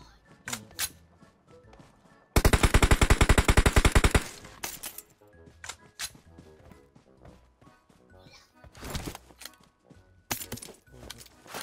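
Gunfire in the PUBG Mobile video game: a long, loud burst of rapid automatic fire, with scattered single shots and sharp bangs before and after, and players talking between them.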